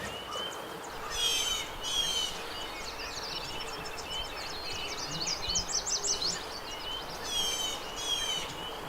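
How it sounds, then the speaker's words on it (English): Birds calling in a spring forest: several repeated bright chirping and trilling calls at mid distance, clustered in bursts over a steady background hum of the woods, with no talking. "a lot of these birds rigorously defend their territory against any"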